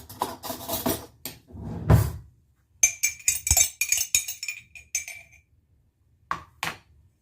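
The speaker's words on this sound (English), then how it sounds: "I'm going to stir it up." A spoon stirs a drink in a glass, producing quick bright clinks and taps in uneven bursts separated by short silences, with some rubbing and handling sounds close by.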